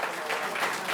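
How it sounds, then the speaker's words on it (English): An audience at an event for Governor Hochul in New York City gives a short burst of continuous applause, many hands clapping at once, fairly loud and close. "Give her a big round of applause for that."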